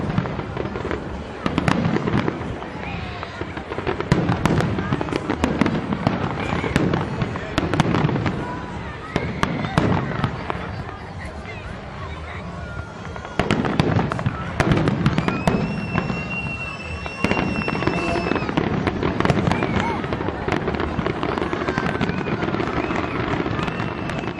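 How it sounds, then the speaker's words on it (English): A fireworks display over the harbour in Split, Croatia, heard from a distance, with repeated booms and crackling bursts, some whistling rockets, and faint crowd noise throughout. "the firework display across the harbour"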